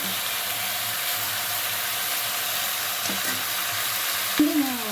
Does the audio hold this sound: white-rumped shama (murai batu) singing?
no